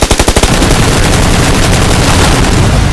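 Rapid machine-gun fire in the PUBG Lite video game rattles at first, then gives way to a loud, dense, sustained roar of gunfire and explosion noise with no talking.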